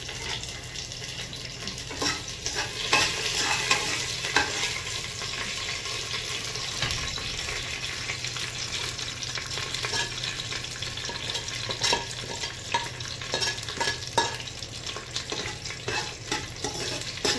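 Cloves and bay leaves frying in oil with curry leaves, a steady close sizzle with occasional stirring scrapes running throughout, no voices.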